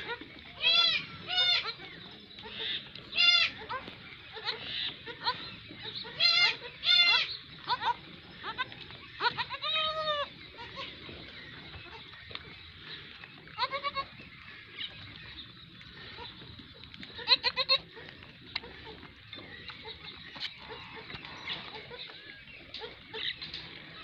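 Several dairy goats, one a high-yield milker with two young male kids, bleat repeatedly at close range in wavering calls over steady farmyard background noise.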